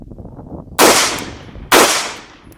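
A CZ Model 82 military surplus pistol fires 9mm Makarov rounds: two sharp, loud shots about a second apart, each followed by a short decaying echo.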